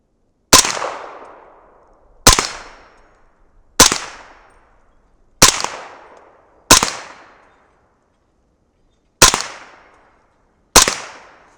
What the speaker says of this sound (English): We've got 20 rounds in a 20-round magazine, so let's see how they shoot. We'll start with the swinging plates from left to right.